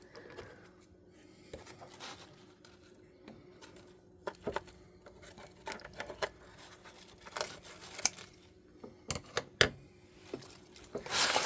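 Tags snipped off a pot scrubber, heard as scattered crisp snips and crinkling rustles, quiet at first and growing busier toward the end.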